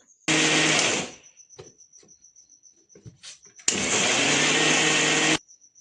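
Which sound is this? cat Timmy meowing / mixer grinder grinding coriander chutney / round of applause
mixer grinder grinding coriander chutney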